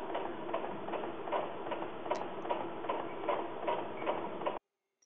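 Brother Innov-is 990D sewing machine stitching a buttonhole, a soft steady rhythmic ticking and whirring that runs evenly for over four seconds, then stops abruptly.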